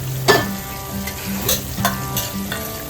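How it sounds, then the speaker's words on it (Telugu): Ginger and garlic fry in oil in a pan while turmeric is added for a chicken curry, giving a steady close sizzle with intermittent scraping stirs and clinks of a spoon, no voices. "అల్లం వెల్లిపాయ ఫ్రై అయిన తర్వాత 1 టీ స్పూన్ పసుపు,"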